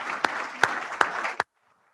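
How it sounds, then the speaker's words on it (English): At a presentation, a few sharp hand claps ring out one at a time at an even pace over soft room noise. About four distinct claps land before sudden silence. "give him a round of applause for sure"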